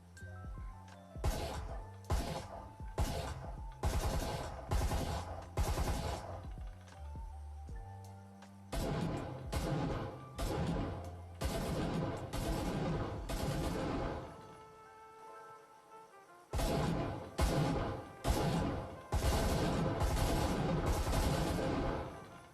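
Gunfire from the Vezin and Marui weapons in the VR shooter Breacher VR: rapid, loud bursts of sharp shots in clustered volleys, separated by a brief quiet gap, then resuming heavily.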